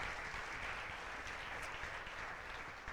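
A church congregation applauding during a sermon, a faint, distant and steady patter of clapping that holds evenly from start to finish.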